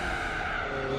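Tyres squealing in a sustained skid in Gran Turismo 4 on super hard tyres with no grip, a loud continuous screech over engine drone.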